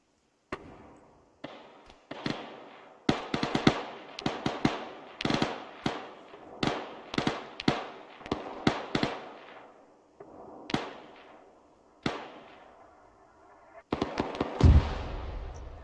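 Mortar rounds fired by a mortar team during a military game training session: a rapid, irregular series of sharp booming blasts, loud and close, with brief gaps between shots and no talk.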